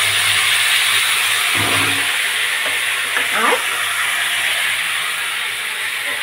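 Ground garlic, ginger, cumin and tomato paste hit hot fried onions in a pan, giving a loud, steady sizzle with bursts of stirring. A brief word is spoken over it.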